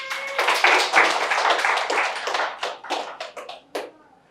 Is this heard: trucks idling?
no